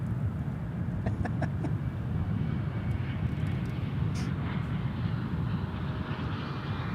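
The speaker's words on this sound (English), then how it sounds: "American 2872, DFW Tower, runway 18 right, clear to land." A steady, loud jet engine rumble from an American Airlines airliner landing on runway 18 right at Dallas/Fort Worth airport, continuous and broadband throughout, with faint brief chirps above it.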